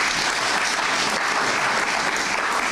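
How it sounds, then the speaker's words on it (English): Steady, moderately loud audience applause at a Botswana event honouring a former COSAFA Secretary General, a dense unbroken wash of clapping throughout. "Another round of applause."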